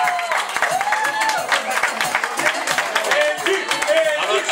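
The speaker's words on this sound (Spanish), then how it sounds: "Y los aplausos que se hagan sentir esta noche." An audience applauds a pageant representative at a Caporales fraternity coronation night, with sustained clapping from a crowd that swells and stays steady from start to finish.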